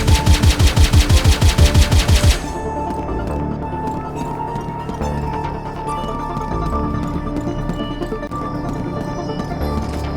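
Rapid turret machine-gun fire in a video game opens with a loud burst of evenly spaced shots, then gives way to a busy spread of scattered clanks, ricochets and shots that run to the end.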